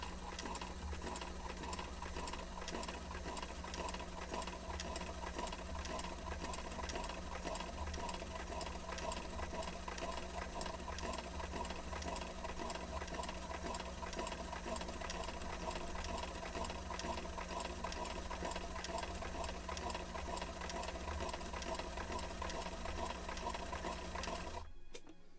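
Sewing machine stitching a seam on a model ship sail for a 1776 gunboat Philadelphia model: a quiet, steady, evenly paced mechanical whir and clatter, running without break throughout.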